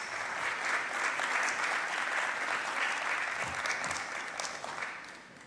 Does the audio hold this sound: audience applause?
yes